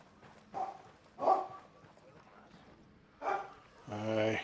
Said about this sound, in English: Hear it barking at me. That would be our dogs.